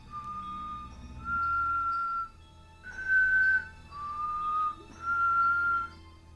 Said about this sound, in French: suivi d'un sifflement sinistre